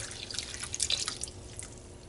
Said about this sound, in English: I'm going to add just a little bit of water so that it covers my chicken.